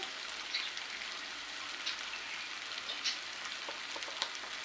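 Curry leaves, turmeric and chili powder crackle and sizzle in hot frying oil, a steady hiss with scattered sharp pops throughout, no talking.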